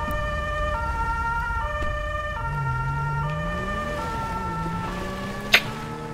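A police car siren in the video game GTA 5 wails loudly and steadily, switching between two alternating tones in a regular pattern, with a low engine drone underneath.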